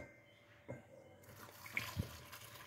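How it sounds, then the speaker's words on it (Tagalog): Water pours and splashes into a container in short bursts, fairly quiet and close, with small clinks between the splashes. "lagyan natin ng tubig"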